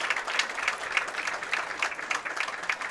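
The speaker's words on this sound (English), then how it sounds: "Nice applause from this wonderful crowd here at Spectrum Lanes." A crowd of spectators at Spectrum Lanes applauds during a women's professional bowling tournament final, steady clapping that rises and falls slightly and carries on for several seconds.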